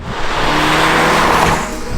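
A 2022 Mazda 3 Turbo's 2.5-liter turbocharged four-cylinder engine runs in a loud, steady, close drone with a rising revving tone and no voices over it.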